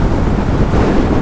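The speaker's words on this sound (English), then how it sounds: "it's very windy right now." Steady, heavy wind buffeting a microphone while riding a Yamaha Aerox scooter, a dense low rumble that roars on without a break.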